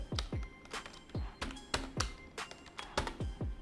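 Someone types code on a computer keyboard in a rapid, uneven patter of sharp, close key clicks with brief pauses between bursts.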